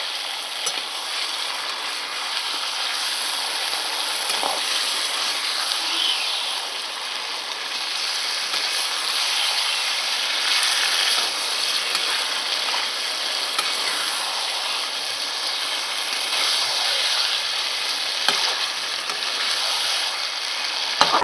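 Marinated chicken sautéing in a pan for a Gondhoraj lemon chicken dish, a steady continuous sizzle and frying hiss with faint stirring scrapes, close and even throughout with no talk.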